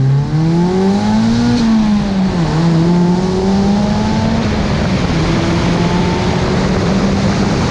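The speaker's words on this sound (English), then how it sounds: "it's very easy to know when the boost is kicking on" Turbocharged Mazda Miata accelerating hard as turbo boost comes on, engine note rising through a gear, dipping briefly at a shift, then climbing again, loud and continuous from inside the car.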